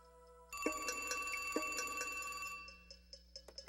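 A telephone bell rings loudly and close by in a sustained metallic trill lasting about two seconds, then fades into a few fainter clicks and taps.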